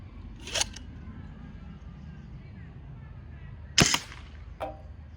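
Nerf blasters being test-fired in a power ranking: two sharp, short bursts a few seconds apart, the second louder and followed by a quieter snap, over a steady low room hum.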